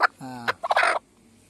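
A Konkan village hen gives a brief, close call, a drawn-out throaty cluck followed by a few quick clucks, then quiet.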